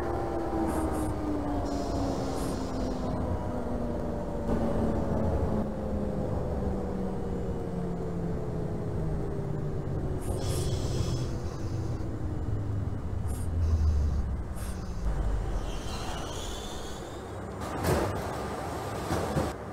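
A Manhattan-bound New York subway J train rolls along in the OpenBVE train simulator, its steady motor hum falling slowly in pitch over a continuous rumble of wheels on track, with brief higher rattles and whines, no voices.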